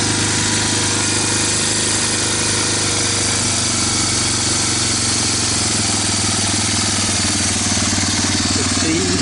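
A Honda TRX250 ATV, a barn find left to rust, idles with its idle turned up in a loud, continuous, rough mechanical drone. The engine runs steadily and close throughout.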